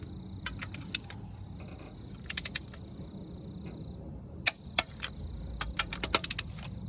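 A torque wrench clicks while tightening the head bolts on a Honda D16 engine. The sharp metallic clicks come close by, some single and some in quick runs, over a quiet workshop background.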